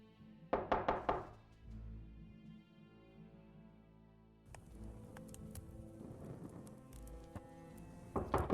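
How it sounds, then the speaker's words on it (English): Knocking on a door in the video game Lost Horizon 2: a quick cluster of four or five loud raps near the start, then a second burst at the end, over a steady low game soundtrack. "There's going to be a knock at the door."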